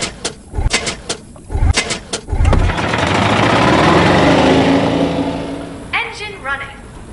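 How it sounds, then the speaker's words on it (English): A spacecraft engine starts in the video game I Expect You To Die: a few mechanical clicks and thumps, then a swelling roaring rumble that peaks and fades before a voice speaks. "The engine is engaged and we are starting our set."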